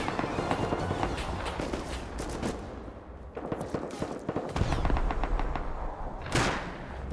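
Rifle fire in the survival game Rust during a raid on high external stone walls, with AK bursts and bolt-action shots. Dense shots and thuds rattle on continuously at moderate loudness, with a sharper burst near the end.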